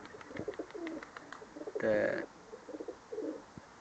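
Soft, low cooing of pigeons repeating in short phrases, with a brief louder burst in the middle and faint background hiss.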